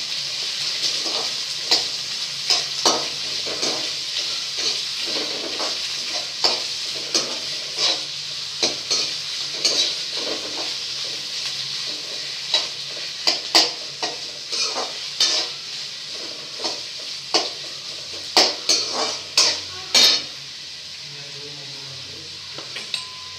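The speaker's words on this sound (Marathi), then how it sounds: "बारीक चिरलेला कांदा. याला छान असं परतून घेऊ." Finely chopped onion sautéed in a pan with whole green chillies, a low steady sizzle broken by frequent sharp clinks and scrapes of a spoon stirring against the pan.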